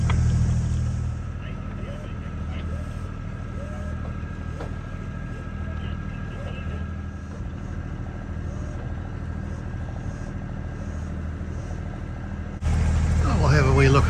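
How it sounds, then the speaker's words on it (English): Sailing catamaran motoring along a northern coastline on its starboard engine only: a steady low engine drone and hum with wind noise throughout, louder at the start and end, while a voice talks over it. "running on the starboard engine only at the moment."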